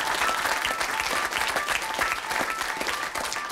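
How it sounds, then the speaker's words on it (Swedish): Studio audience applauding during a Swedish television debate on LCHF diets, a loud, dense and steady burst of many hands clapping throughout. "Applåd."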